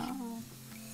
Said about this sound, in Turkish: Şimdi bunları birazcık da şeyle şeyleri de arpa şehriyeleri de kavurmak istiyorum